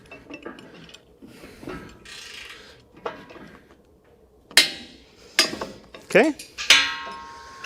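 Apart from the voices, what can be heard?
ratchet torque wrench clicking at 85 foot-pounds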